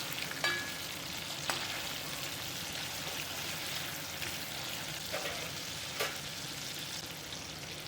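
Chicken pieces fry steadily in hot oil, a soft continuous sizzle with occasional crackles and pops, no voices.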